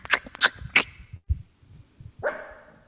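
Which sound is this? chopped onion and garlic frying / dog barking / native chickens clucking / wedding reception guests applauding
dog barking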